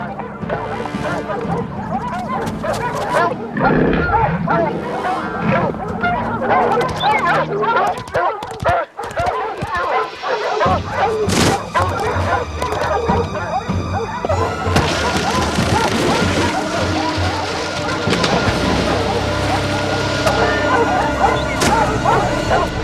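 In an animated show, a pack of hunting dogs bays and yips amid loud dramatic music and sound effects, with voices shouting over the din.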